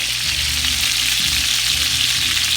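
Homemade meatballs frying in a pan, a loud continuous sizzle with a dense crackling hiss and faint low clatter underneath, with no voices.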